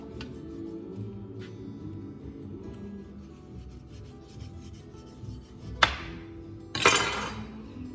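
A knife scrapes and saws through cartilage bone while trimming a pork butt, making steady low rasping strokes with two sharper, louder cuts near the end. No one speaks.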